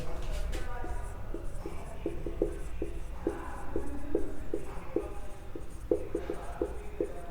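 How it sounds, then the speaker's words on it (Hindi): Writing on a board during a civil engineering lecture on rigid pavement design parameters, heard as a run of short, regular scratchy strokes and taps over steady room tone, with a voice faintly present. "लिखेंगे डिजाइन पैरामीटर्स"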